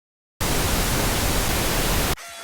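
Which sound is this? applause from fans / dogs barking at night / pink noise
pink noise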